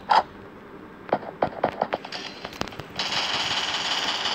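Rapid bursts of in-game gunfire hammering a protector shield in the Free Fire battle royale game, a quick irregular volley of sharp cracks followed by a steady hiss-like noise, loud and close with no talk.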